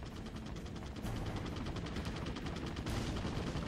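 Sustained gunfire from Resident Evil 4 on PS2, dense rapid shots forming a continuous loud barrage throughout, with a sharper burst of bangs partway through.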